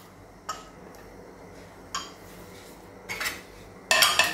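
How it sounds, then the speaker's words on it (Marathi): A pressure cooker lid being opened after cooking a pea and cauliflower curry, heard as a few sharp metallic clinks and clatters spaced out, ending in a louder rattling scrape, close by with no talk. "आता आपण झाकण खोलून पाहूया आपली भाजी।"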